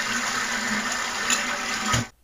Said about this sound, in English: Let's import the toilet flush